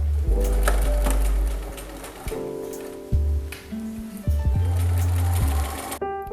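Domestic sewing machine stitching along a trouser fly zipper, running in several close, loud bursts with short pauses and a brief stop near the end.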